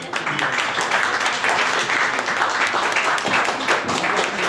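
A crowd at an inauguration event in Brussels breaks into loud, continuous applause, steady and full throughout with a few stray voices mixed in.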